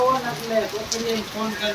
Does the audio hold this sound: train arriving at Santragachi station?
no